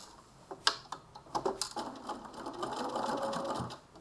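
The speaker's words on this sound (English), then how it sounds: "it's the sleeve side that you're doing the edge stitching on" A sewing machine edge stitches along the sleeve side of a Luna coat seam, running in short bursts that settle into a steady, close whir toward the end, with no talking.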